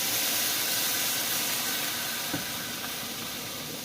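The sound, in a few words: kettle steaming and hissing on the stove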